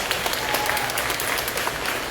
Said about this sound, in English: I want to give these guys an extra round of applause for the last two songs as they played.